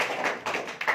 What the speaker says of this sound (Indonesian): Aplaus yang paling luar biasa untuk bapaknya yang paling depan